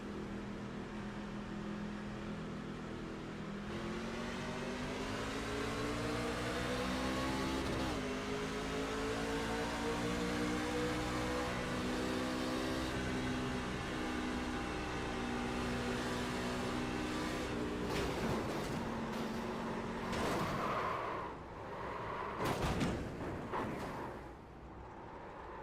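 Race cars in the iRacing sim at the St. Petersburg Grand Prix street circuit accelerating hard, engine notes sweeping upward in overlapping rising whines, loud and sustained, breaking into choppier revs and gear shifts toward the end.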